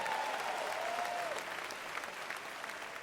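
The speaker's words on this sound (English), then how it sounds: "So give Charlie Wilson a round of applause." Audience applause for Charlie Wilson at a Cincinnati Black Music Walk of Fame induction ceremony, a steady wash of clapping at moderate distance with a brief tonal whistle-like sound early on.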